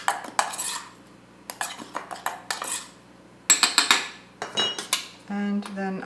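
Cookie dough with almond flour is worked in a bowl, giving a run of separate clinks and scrapes of a utensil against the bowl. They come in short bursts with quiet gaps between them, and the last stretch turns into rapid metallic tapping.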